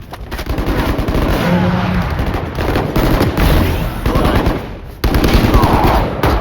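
Rapid automatic gunfire from the Valorant first-person shooter, loud and dense with continuous bursts of shots and impacts throughout, briefly breaking near the five-second mark before resuming.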